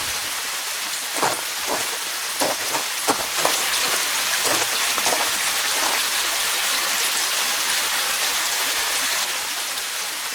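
A dense, even hiss of heavy rain pours down steadily, with faint dull rumbles or thumps scattered through the first half.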